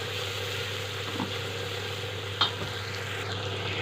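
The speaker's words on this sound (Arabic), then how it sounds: "انا بحب احط على البصله دايما وهي بتتشوح شويه فلفل اسمر" Onions sautéing in fat in a pan with a sprinkle of black pepper, giving a steady even sizzle with light stirring and one brief clink of a utensil, no voices.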